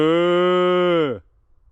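A single long, steady bleat-like call held for about a second, close and loud, then cut off into quiet, made by a human voice imitating a sheep in a field in Ireland.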